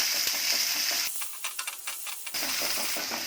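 Cumin, onion and green chili frying with asafoetida in a pan, a loud close sizzle that drops away briefly while being stirred with scraping clinks, then surges back to full hissing crackle.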